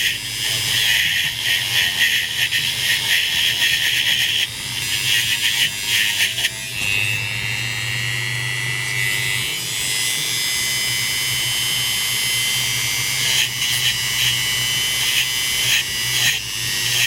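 Rotary tool buffing a rusty warning wheel from a Black Forest Regula 25 cuckoo clock, a close, continuous high whine that shifts in pitch as it bites and eases, with a few brief dips, no talking.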